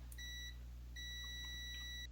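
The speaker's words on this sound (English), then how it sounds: "on diode check, yep, we do get our beep" A Kaiweets HT118A digital multimeter set to diode check emits a high, clean electronic beep, a short tone followed after a pause by a longer sustained one, close and alone over faint hum.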